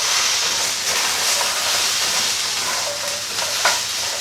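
Hash browns frying in a pan covered by a white frying pan used as a lid: a steady, loud, close sizzle and hiss running unbroken throughout, with a few faint pops and crackles.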